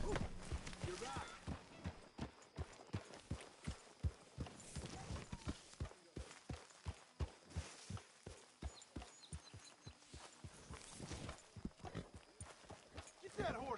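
Rhythmic horse hooves clip-clop steadily throughout in Red Dead Redemption 2, close and clear, with game ambience and other sounds layered over them.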